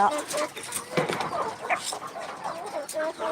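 A police-cap chicken clucks while pecking at rice nearby, repeated soft clucks and calls over a busy background, with people talking in the clip.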